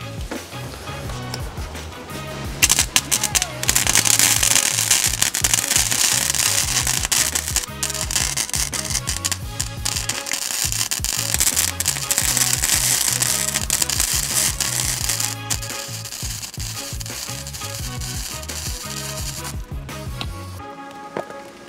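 A welder runs a bead on thin steel, powered by a Jackery Explorer 2000 Plus portable battery, giving a loud, steady crackling sizzle with irregular pops that continues almost the whole time.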